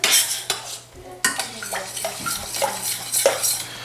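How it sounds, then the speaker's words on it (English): A metal spoon scrapes and clinks around a pan as a thickening sauce for a Barolo braise is stirred, with irregular close scraping strokes and small clatters and no talking. "I'm going to take a spoon and I'm going to start stirring this to thicken up the sauce"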